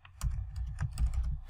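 Fingers typing on a computer keyboard at a Windows command prompt, a quick close run of soft, irregular key clicks lasting about a second and a half.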